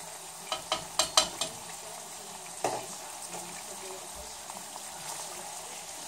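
Chicken, broccoli and bacon sizzle in a pan while a fork and spoon stir them, giving a cluster of sharp clinks and scrapes early on over a low, steady frying hiss.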